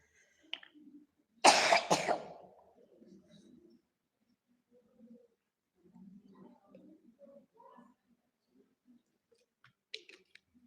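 A woman coughs in a brief loud burst of two harsh coughs during a religious talk, followed by faint scattered murmurs and small noises.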